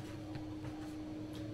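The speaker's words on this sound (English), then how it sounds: "Loud fan extractor, very dusty that fan extractor." A dusty extractor fan in a hotel bathroom gives a steady, faint droning hum with a constant tonal whine, heard alone.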